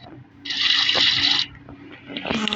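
Water runs from a tap during washing in the Roblox game Brookhaven: a steady one-second hiss of flowing water set against quiet background game sounds.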